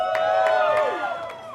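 A crowd cheers at a live pickleball event, a short bright burst of voices and shouts rising together, close and loud, then fading within moments.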